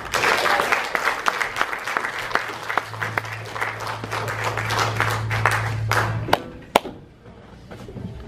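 An audience at the Alcazar Theatre claps warmly to welcome a band onstage, with dense, steady applause that thins out and ends in a few last claps.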